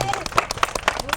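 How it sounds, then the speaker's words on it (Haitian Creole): A small crowd claps at an outdoor ribbon cutting in front of a new house, sounding as a quick flurry of sharp, uneven hand claps close by, mixed with a few voices. "Applaudissez."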